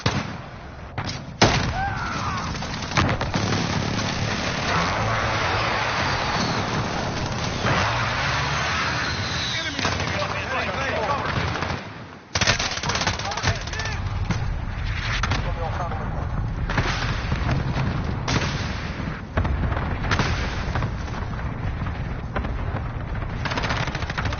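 Explosions and gunfire from an allied precision airstrike in the Call of Duty Modern Warfare multiplayer game, with dense, continuous bursts of loud blasts and shooting that briefly drop out mid-clip before resuming.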